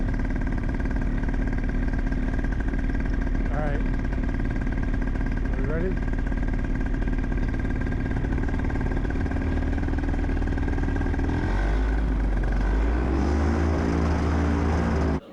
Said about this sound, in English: I'm sitting here with this big heavy motor on my back